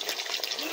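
Fish frying in a pan at a night-time picnic, a light crackling sizzle with small rhythmic spurts, faint and close, with a bit of stirring.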